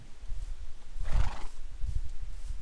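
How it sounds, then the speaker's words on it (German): A horse neighs once in Minecraft, a short whinny midway through a low, rumbling background. "Da steht mein Pferd."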